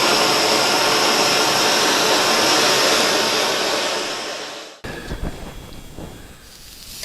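A torch roars with a loud, steady hiss while heating a copper flower vase with brass rings to melt solder, then cuts off abruptly, leaving quieter scraping and handling sounds.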